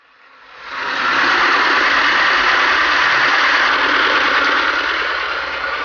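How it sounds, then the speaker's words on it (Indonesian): An engine-driven pump draws water from a shrimp pond, starting up quickly and then running at a steady, loud droning roar with a faint rumble underneath. "kita lakukan dulu penyedotan air dengan mesin sehingga memudahkan pengambilan udang"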